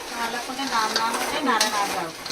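Jaggery gavvalu deep fry in hot oil with a close, bubbling sizzle and crackle, joined by stirring scrapes and clicks.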